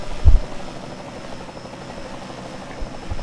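A helicopter hovers above the Pocono race track, its steady rotor drone low and continuous, with a brief louder thump near the start.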